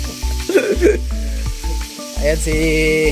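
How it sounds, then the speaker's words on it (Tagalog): Fish frying in oil in an outdoor dirty kitchen, a steady close sizzle running beneath brief talk. "Nagluluto po ng isda. Prito."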